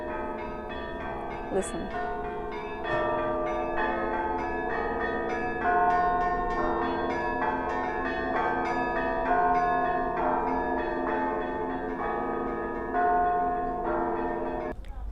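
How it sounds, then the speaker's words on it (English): Church bells chimed by bell ringers at a festival in the Yaroslavl region, several bells of different pitches struck in a lively overlapping pattern that rings on steadily, with a brief voice heard over them. "those people compete and show their skills in chiming bells"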